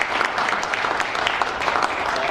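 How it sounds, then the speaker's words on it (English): Warm audience applause fills a village hall, a steady dense patter of many hands clapping at close range without pause. "thank you very much indeed for your very warm round of applause"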